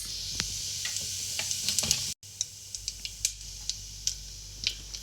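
Mustard seeds spluttering in hot oil in a pressure cooker, a steady bright sizzle scattered with quick irregular pops and crackles, close and continuous, briefly cut out for an instant partway through.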